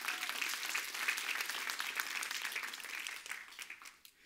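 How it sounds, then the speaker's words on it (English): A church congregation claps together in a sustained round of applause, moderately distant and fading toward the end. "Give yourselves a big hand clap."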